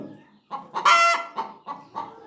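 A hen clucks nearby in a short series of throaty calls, with one louder, higher squawk among them.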